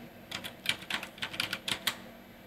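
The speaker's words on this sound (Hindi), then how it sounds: "तो हम यहाँ पे टाइप कर लेते हैं।" Fast keystrokes on a computer keyboard while entering a company name in Tally Prime accounting software, about a dozen close, crisp clicks in an uneven burst over a steady faint hum.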